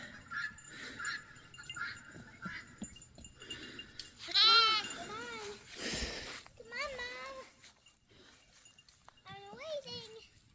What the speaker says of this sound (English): I love watching baby lambs.